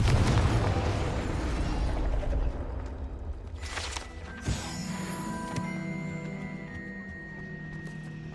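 In the video game Hogwarts Legacy, a Confringo fire spell goes off as a booming explosive blast, followed by a rumbling decay, debris crackle and a lingering ringing tone.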